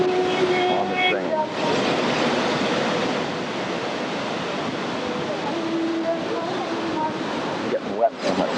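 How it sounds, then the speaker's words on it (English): A waterfall pours close by, a loud continuous rushing roar of falling water, with faint tonal sounds near the beginning and end. "That's the waterfall."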